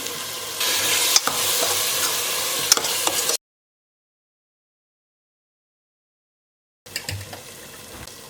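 Yogurt stirred into a sizzling pan of spiced chilli-powder masala for kuska, a loud steady frying hiss with spoon scrapes that cuts out to silence midway, then resumes briefly.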